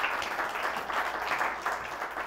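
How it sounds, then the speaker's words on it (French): A studio audience at a birthday show applauds the co-host, steady moderately loud clapping from many hands that continues evenly throughout without a break. "on applaudit ma co-animatrice"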